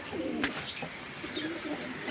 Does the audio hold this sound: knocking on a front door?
no